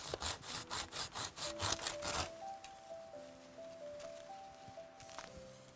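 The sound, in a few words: hand saw cutting bamboo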